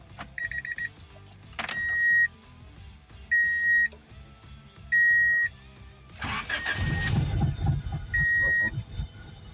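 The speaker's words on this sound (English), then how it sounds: "We are basically ready for our first startup." Several electronic chimes and beeps sound in turn, then a 1986 Honda Prelude Si engine cranks and catches, settling into a rough, uneven idle with beeps continuing and check engine light on.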